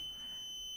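A Raspberry Pi fire alert buzzer gives a steady high-pitched continuous tone, faint and unbroken, with no other sound alongside.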